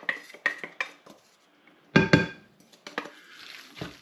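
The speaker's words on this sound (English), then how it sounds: "I can just scrape it out like that." A utensil scrapes garlic and food out of kitchenware: short scraping and clinking strokes, several quick ones at the start and then a louder burst, close by and alone in a quiet kitchen.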